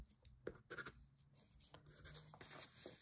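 Quiet scratchy strokes of a pencil on pastel paper, short irregular bursts close up, with small pauses between strokes.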